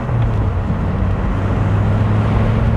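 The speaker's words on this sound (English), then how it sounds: "Love the side exhaust." A 1992 Dodge Viper RT/10 idles steadily through its side exhaust, producing a loud, continuous low rumble that stays close and unbroken with no one talking.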